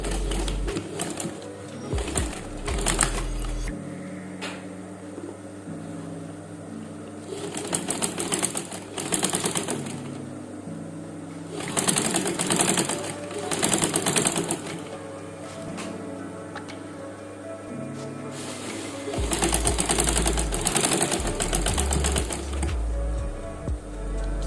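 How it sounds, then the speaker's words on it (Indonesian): A sewing machine stitches a songket skirt, running in loud rapid bursts of mechanical whirring and ticking separated by quieter pauses where the machine slows or stops. "Langsung saja kita jahit."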